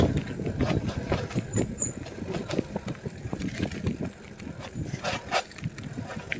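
A vehicle braking hard on a steep downhill road, with air-brake hiss and high squealing tones over a rumbling engine, close and continuous for several seconds.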